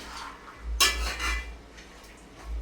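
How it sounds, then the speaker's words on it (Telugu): A utensil scrapes and clinks against a pan while stirring carrot fry, one sharp scrape followed by softer movements, close and brief with no speech. "ఇప్పుడైతే ఇది మొత్తం ఒకసారి కలిపేసుకుందాం"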